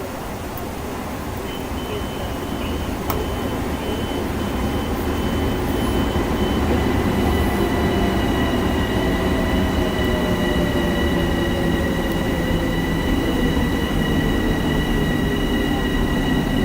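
A train rolls past in the Train Sim World 6 game on the New York to Stamford line, a loud, sustained rumble of wheels and cars with tonal squeals lasting the whole stretch.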